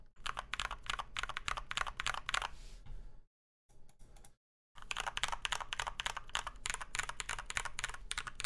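Rapid typing on a KBD75v2 mechanical keyboard fitted with tactile Glorious Panda switches makes dense, loud clacking that stops briefly twice near the middle and then resumes at full pace.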